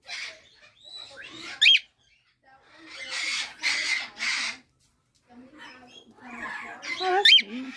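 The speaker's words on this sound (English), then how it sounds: "You hear all the birds in the other room. Boy, they make a big fuss over there." Parrots, conures and other birds in a large bird store make high squawks and chatter from another room, heard in scattered bursts with quiet gaps between them.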